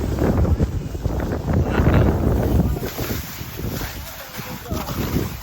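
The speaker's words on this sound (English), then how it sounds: "Oh, the wind is finally here." Strong wind gusting at a rainy ski area as a cold front arrives, a steady loud rushing roar buffeting the microphone throughout, with low rumbling surges and no clear talk.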